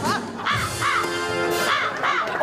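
A crow caws repeatedly in loud, harsh bursts, about five calls in a steady rhythm, close by, with a voice briefly underneath.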